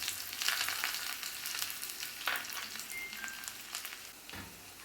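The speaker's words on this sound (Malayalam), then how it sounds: "ചുമന്നുള്ളി അരിഞ്ഞതും ഒരു വറ്റൽമുളക് അരിഞ്ഞതും കൂടി ചേർത്ത് നന്നായിട്ട് മൂപ്പിച്ചെടുക്കാം" Chopped shallots and a sliced dried red chili sizzle in hot oil after mustard seeds have popped, a soft continuous frying hiss with occasional brief crackles and a light stir.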